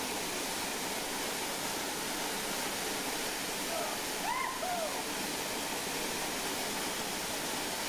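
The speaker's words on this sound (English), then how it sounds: "the water is very rough" Rough, violent river rapids rushing steadily during a whitewater rafting trip in Costa Rica, a dense continuous roar of turbulent water close by, with a faint brief voice-like call partway through.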